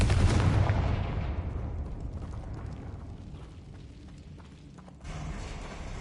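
A Confringo spell blast strikes something hanging overhead in the Hogwarts Legacy video game, a heavy booming burst that rumbles and decays over several seconds, followed by a fainter thud.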